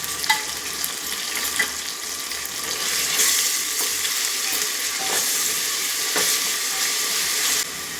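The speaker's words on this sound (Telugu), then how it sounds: "ఫ్రై అయిపోయిన తర్వాత ఇందులో అల్లం వెల్లుల్లి పేస్ట్ కూడా వేస్తున్నాను." Fried onions with ginger garlic paste crackle in a pan with a loud, steady sizzle, while stirring scrapes and occasional clinks sound close by and nobody speaks.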